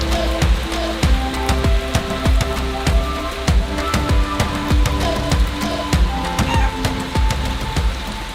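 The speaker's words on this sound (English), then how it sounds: "And of course right now it's raining" Rain falling at an ape sanctuary in Yaoundé, Cameroon, as a dense, irregular patter of sharp drops striking nearby surfaces, steady and close throughout with no talk.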